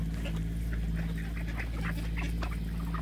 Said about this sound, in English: And then, of course, these are the mallards.